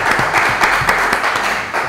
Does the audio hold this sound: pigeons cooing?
no